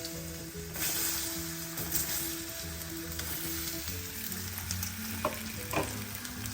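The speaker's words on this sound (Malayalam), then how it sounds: "ഇനി എടുത്തു വെച്ച പഴം അതിലേക്കിട്ട് ഒന്ന് വഴറ്റി കൊടുക്കാം" Soft, steady sizzle of banana sautéing in ghee in a pan, with occasional scrapes and light taps of a spatula stirring.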